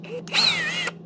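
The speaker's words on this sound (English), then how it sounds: "let's drill this out the rest of the way" A handheld power drill drills out a workpiece during a work session, a short loud whining burst that rises and holds a wavering pitch for about half a second before cutting off, with a steady hum underneath.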